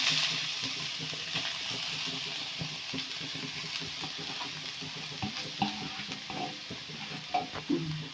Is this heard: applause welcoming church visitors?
no